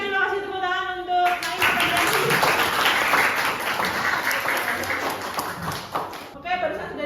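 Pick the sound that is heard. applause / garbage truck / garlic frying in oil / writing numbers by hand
applause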